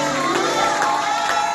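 A church congregation at a seminar service acclaims a man of God with a dense, loud burst of cheering and crowd noise that fills the whole short moment.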